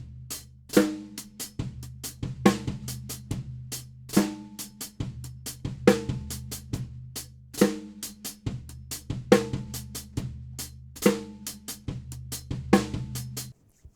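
A drum kit plays a three-way flam groove, bass drum, snare and hi-hat interlocking in a steady repeating pattern with sharp flammed accents, close and clear with no talking.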